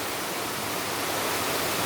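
A jungle waterfall in Portland, Jamaica roars as a steady broadband rush of falling water, loud and unbroken throughout.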